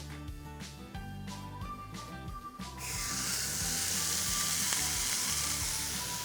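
A beef entrecôte sears in a dry non-stick pan with no fat or seasoning. A soft hiss with faint steady tones surges into a loud, continuous sizzle partway through, and no one speaks.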